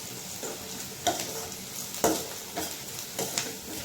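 Ingredients for a moong dal curry fry in a pan with a steady close sizzle, broken by a few sharp spatula knocks and scrapes as they are stirred.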